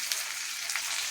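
A spice paste of green chili, tomato, poppy seed, melon seed, cardamom, salt, turmeric and Kashmiri chili powder sizzles in a pan for a shrimp dish, with a steady close frying hiss and light stirring ticks.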